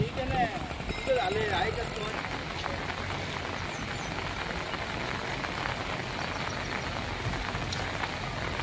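Continuous monsoon rain falls steadily over Manmad with an even, moderately quiet hiss of drops. Faint voices can be heard near the start.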